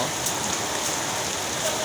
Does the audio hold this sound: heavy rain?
yes